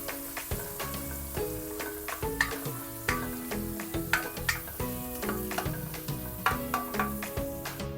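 Onions sautéing in a pan as pork belly cooks alongside them, giving a steady close sizzle broken by clattering stirring strokes with sharp utensil clicks against the pan throughout.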